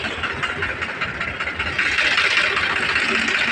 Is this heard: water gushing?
no